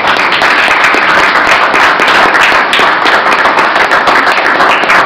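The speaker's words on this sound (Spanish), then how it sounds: "un aplauso a vosotros" Loud, close applause from the audience at a Spanish book presentation, a dense continuous patter of many hands clapping for about five seconds with no talking.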